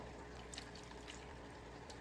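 Water pours steadily from a scoop into the bottom of a fish fry tray in a garage, a soft continuous trickle heard up close for a couple of seconds.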